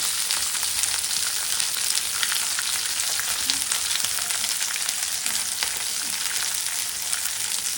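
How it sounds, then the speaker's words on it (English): Raw banana pieces sauté with spices in a hot pan, giving a steady, close sizzle with faint stirring scrapes throughout and no voices. "we are adding the raw bananas and we're just sauteing it with the spices"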